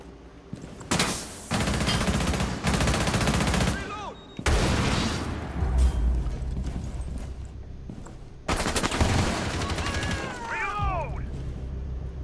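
Gunfire in Rainbow Six Siege on the Consulate map: loud bursts of rapid automatic fire come in long stretches separated by brief pauses, with metallic clatter and whistling ricochets between volleys.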